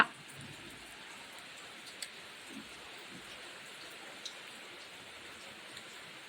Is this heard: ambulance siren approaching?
no